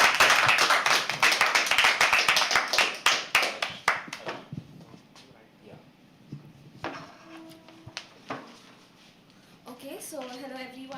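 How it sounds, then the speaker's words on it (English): An audience at a live poetry open mic at The Habitat claps as a performer comes on stage, brisk clapping that fades after about four seconds, followed by quieter room sounds and a voice speaking. "Please keep clapping as she comes on stage."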